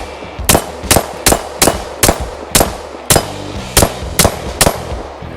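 Rapid semi-automatic gunfire from a handgun fitted in a CAA MCK micro conversion kit, about ten sharp shots at a steady, slightly uneven pace, loud and close with no talking.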